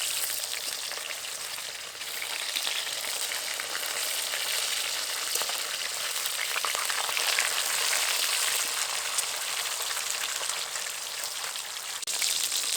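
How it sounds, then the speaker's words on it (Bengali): Pieces of katla fish frying in a pan, giving a steady, dense sizzle with fine crackling pops that holds at a constant level throughout, close and unbroken, with no voices. "এবার উল্টে দিয়ে অন্য দিকটা লালচে করে ভেজে নেব"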